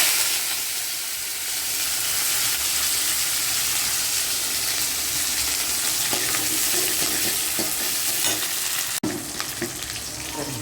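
Mustard seeds, onion, dried red chillies and curry leaves frying in hot oil for a bitter gourd tempering, a steady close crackling sizzle throughout with stirring clatter near the end and no talk.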